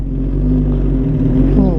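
A Suzuki GSX-R1000 sport motorcycle in gear but not yet revved, engine idling with a low, steady rumble nearby while someone talks over it.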